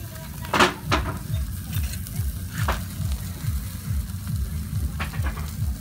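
Tamban fish frying in a pan with fatty oil, a steady close sizzle and crackle throughout with a few sharper pops, no talk.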